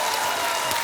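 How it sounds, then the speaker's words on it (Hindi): Dense, steady applause from a studio audience on a Hindi entertainment show, a brief continuous wash of clapping with no break. "तालियां।"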